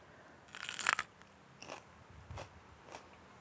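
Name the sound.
biting into a raw Aji Fantasy chilli pepper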